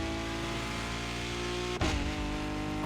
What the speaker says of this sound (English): it's got a nice growl when you actually rev up